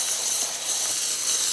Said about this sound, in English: dispense steam just like you see right now